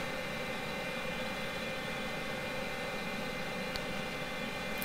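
An Antonov An-225 Mriya in a Prepar3D v4 flight simulator cruises on approach with gear and flaps down, a steady broadband jet engine roar at moderate volume with one brief click, no talking.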